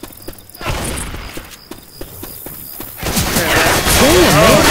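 Bandits open fire in the shooter game S.T.A.L.K.E.R. 2, with bursts of gunshots and impacts at first, then a louder, busier rush of shooting and chaotic noise under players' shouting.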